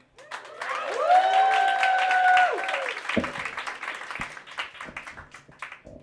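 Audience applause and cheering for comedian Lilly Andersen taking the stage at a comedy night, building in the first second into a dense, sustained wash of clapping that thins out toward the end.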